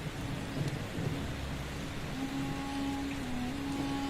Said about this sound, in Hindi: एक घना और रहस्यमय जंगल था जहां मूसलाधार बारिश अनवरत बरस रही थी